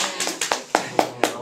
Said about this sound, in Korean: 여기서 박수 한번 부탁드리겠습니다